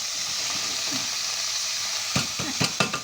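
Cauliflower frying with tomato paste in a pan gives a steady sizzle throughout, then several sharp stirring scrapes and clatters near the end, close and moderately loud.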